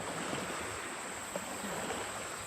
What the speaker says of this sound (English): Now here comes the waves.